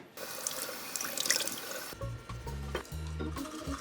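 Tap water runs steadily into a small bathroom sink during toothbrushing, a bright continuous splash that gives way to quieter trickling and low, muffled bumps near the basin.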